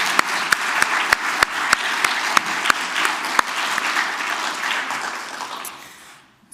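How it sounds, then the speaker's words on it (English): A crowd applauds steadily, dense clapping with a few sharp, louder claps punctuating it, then the applause gradually fades out. "Let's give them another round of applause."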